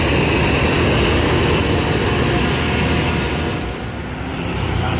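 Buses leave a busy, congested bus terminal at rush hour, their engines forming a loud, continuous low roar and rumble that dips slightly near the end, with no talking.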